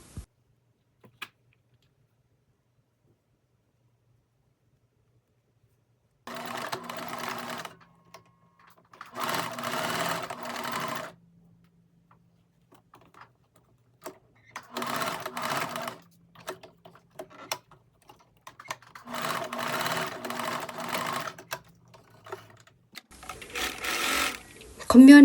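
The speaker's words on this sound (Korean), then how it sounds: "안단은 앞 안단과 뒤 안단의 어깨선의 시접선을 시침핀으로 고정을 해서 박음질을 합니다" A sewing machine stitching the shoulder seams of a denim dress facing, running in four or five distinct bursts of steady mechanical whirring separated by quiet pauses, close and clear.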